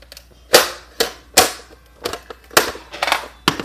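Nerf Retaliator blaster firing repeatedly, a series of about eight sharp snapping pops at an irregular quick rhythm, close and loud with nothing else heard.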